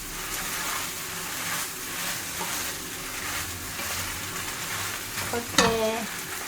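Bean sprouts stir-fried for char kway teow, a steady sizzle broken by repeated scraping and tossing in the pan, ending in a sharp metallic clatter near the end; no one speaks.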